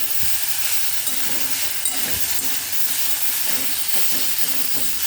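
Chopped tomato drops into hot oil already frying onion and panch phoron, giving a steady bright sizzle and hiss with occasional soft stirring clicks, close by and alone.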